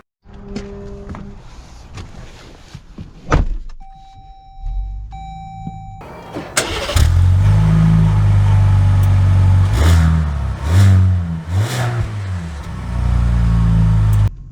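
A 2023 Jeep Grand Wagoneer Series III is heard from inside, with a few clicks and chimes giving way to a loud, steady engine hum and road rumble as it pulls away, swelling in bursts.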